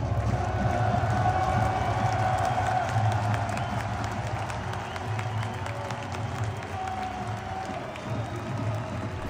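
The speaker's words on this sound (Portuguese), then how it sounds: "Ele foi bastante aplaudido e ficou bastante emocionado." A big stadium crowd on the pitch after a win applauds a departing goalkeeper with steady, dense clapping and cheering, loud and continuous throughout.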